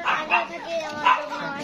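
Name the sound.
American Eskimo dog puppies barking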